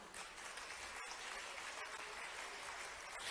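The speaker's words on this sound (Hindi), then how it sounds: "तालियां उल्टे हाथ की तरफ कैसे बज रही हैं" A seated audience applauds at a government awards ceremony in Madhya Pradesh, a steady, dense wash of clapping that stays even and continuous throughout, with no voices standing out.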